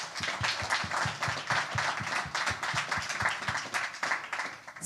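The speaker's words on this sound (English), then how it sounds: "A big round of applause for Robin," Steady applause from an audience at a talk, many hands clapping in a dense continuous patter for the whole stretch, fairly close and moderately loud, with no talking.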